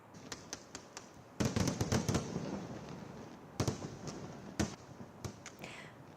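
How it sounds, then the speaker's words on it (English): Fireworks and firecrackers burst during a Diwali celebration in India, a string of sharp cracks and pops with denser crackling flurries in between, moderately distant and without voices. "Fireworks and sparklers are just one part of the celebration."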